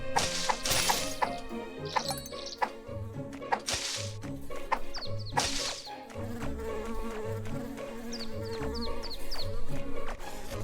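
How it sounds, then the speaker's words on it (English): Buzzing bees in the retro RPG Secrets of Grindea drone steadily beneath game music, with chiptune-style effects and hits scattered throughout. "I'm not gonna grind the bees."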